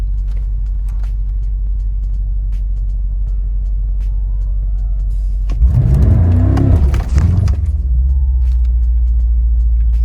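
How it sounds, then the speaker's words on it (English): A BMW M5 idles with a steady low rumble, then its engine revs sharply on launch control for about two seconds before settling back to idle. "There we go. The car kinda almost launched."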